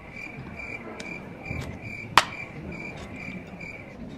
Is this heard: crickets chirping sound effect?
yes